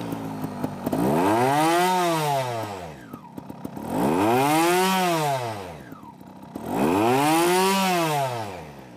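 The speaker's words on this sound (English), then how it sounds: "normalizing how loud the engine is, how it feels, how it starts to shake and vibrate" Three loud full-throttle revs of a motorcycle engine, each climbing to a high roar then falling back to a rough idle, evenly spaced.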